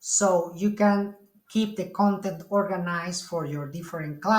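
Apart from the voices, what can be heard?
No distinct noise like a dog, phone or traffic.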